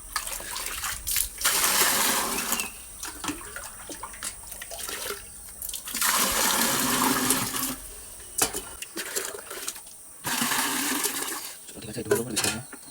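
Water is poured into a guppy fish tank in several long gushing bursts separated by short pauses, close and fairly loud, with a person talking between pours.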